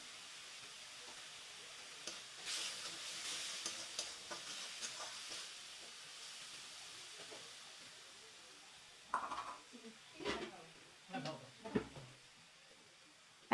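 Spice paste of ground coriander, cumin, chilli and turmeric mixed with water is stirred and fried in a pan for a pointed gourd and coconut dish, with a faint steady sizzle and soft stirring scrapes, a bit louder toward the end.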